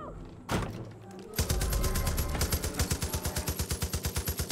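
Light machine gun firing in Far Cry 5: after a couple of isolated thumps, a loud, rapid automatic burst of evenly spaced shots rattles on for about three seconds, close and dominant.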